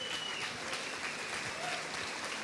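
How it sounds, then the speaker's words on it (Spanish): Congregation applauding during a church service in Spanish, a dense, steady wash of many hands clapping that stays at an even level throughout. "Dele un aplauso a la palabra de Dios"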